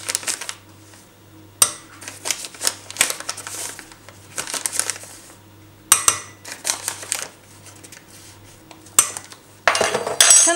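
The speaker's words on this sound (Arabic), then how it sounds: "كنخلطو هاد المكونات جيدا حتى كيدوب لينا بودرة الكريمة" A spoon stirs milk, sugar and custard powder together in a bowl, giving intermittent clinks and scrapes against the bowl in short bursts separated by quiet pauses.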